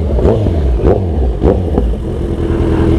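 A motorcycle engine revs close by outside a restaurant, giving several throaty bursts that rise and fall over a low idling rumble, with no talk over it.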